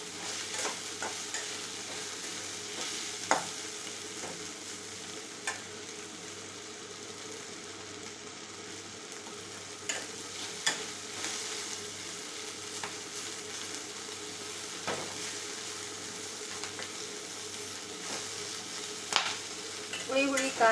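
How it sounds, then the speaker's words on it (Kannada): Chillies and tomatoes fry in hot oil, giving a steady, close sizzle throughout with occasional stirring clatters and scrapes of a utensil in the pan; no one speaks. "ಇವನ್ನ ಮೆಣಸಿನ್ಕಾಯಿ ಟೊಮೆಟೊ ಹಣ್ಣು ಚೆಂದಾಗಿ ಎಣ್ಣೆಯಲ್ಲಿ ಫ್ರೈ ಮಾಡಕತ್ತೀನಿ, ಹುರಿತೀನಿ"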